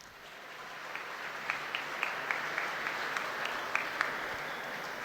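An audience gives moderate applause for an introduced guest, a union leader being welcomed at an event, heard as a steady wash of clapping with a few sharper claps standing out.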